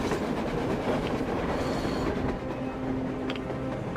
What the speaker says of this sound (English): A train! A damn train!